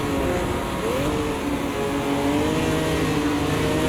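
A raspy race car engine in a sim racing video game on a tough circuit, a continuous loud buzzing drone with shifting pitch as the car accelerates, steady throughout with no talk.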